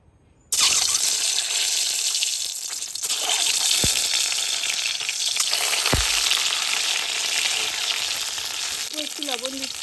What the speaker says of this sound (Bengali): অল্প তেল দিচ্ছি, ডিমগুলো একটু হালকা করে ভেজে নেব।